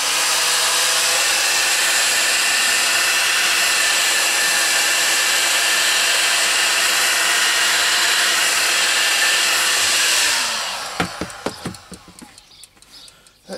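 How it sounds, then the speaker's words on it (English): A heat gun softening old glue on a gundog accessory, a loud, steady close-range blowing roar that holds for about ten seconds before cutting off, followed by a few faint clicks and handling knocks. "I just put the old heat gun on it a bit."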